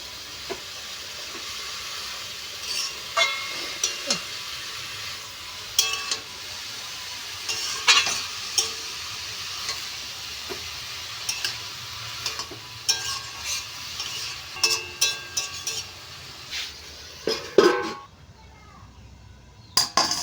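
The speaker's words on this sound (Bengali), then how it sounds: "এখন বাঁধাকপি বসিয়েছি মাছের মুড়ো দিয়ে করবো" Cabbage cooks with a fish head in a pan, a soft sizzle and hiss under intermittent stirring and clinks of utensils against the pan, close by, with occasional voices in the background.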